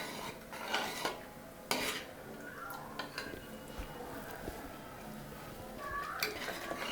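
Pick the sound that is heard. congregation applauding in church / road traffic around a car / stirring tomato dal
stirring tomato dal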